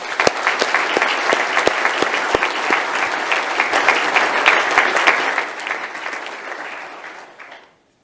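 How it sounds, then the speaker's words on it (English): Warm, sustained applause from a seated audience at a university graduation ceremony, honouring a guest speaker; dense clapping holds steady, then thins out and fades over the last few seconds. "Let's show our appreciation with a round of applause."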